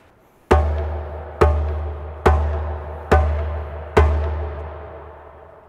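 Five deep bass tones are struck on a djembe, hand drumming in a Haitian performance style, each a loud, booming low hit that rings and fades before the next, evenly spaced and played alone.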